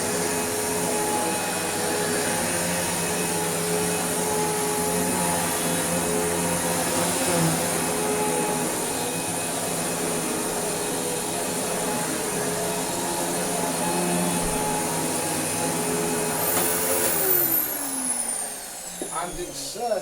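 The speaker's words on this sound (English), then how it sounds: "it's certainly a vacuum cleaner that works better on the floor rather than through the tools" A Dirt Devil (Royal) Eclipse Plus 6750UKA vacuum cleaner drones steadily with a constant high motor whine and airflow rush, close and loud, winding down toward the end.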